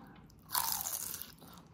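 A single crisp crunch of biting into crunchy Kapampangan sisig, a close, brief bite followed by softer chewing, with no talking.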